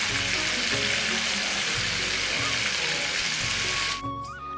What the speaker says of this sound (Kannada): ಸ್ವಲ್ಪ ಕಡಕ್ಕಾಗಿ ಡೀಪಾಗಿ ಫ್ರೈ ಮಾಡ್ತಾ ಇದ್ದೀನಿ ಸ್ವಲ್ಪ ಜಾಸ್ತಿ ಎಣ್ಣೆ ಇಟ್ಟು